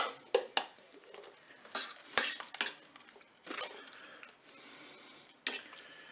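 Peeled tomatoes go into a Cookeo multicooker pot with green beans and roast chicken, bringing a string of close metallic clinks, scrapes and spoon-on-pot clatter in irregular bursts, with quiet pauses between them.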